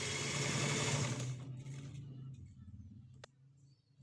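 An electric sewing machine runs fast and evenly while stitching the side seam of a flared frock, then slows and stops after about two seconds. Quiet handling sounds and a soft click follow.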